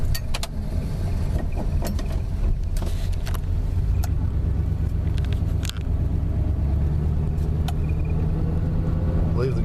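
A 1974 Plymouth Valiant with a 318 V8 on the road, heard from inside as a steady low engine rumble with road noise and occasional clicks and knocks, while people talk.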